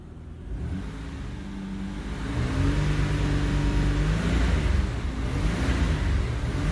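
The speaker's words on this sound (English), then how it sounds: "if I rev it up," A 1994 Isuzu Rodeo engine that runs poorly, idling and then revved up, its close, loud drone rising and holding at higher speed.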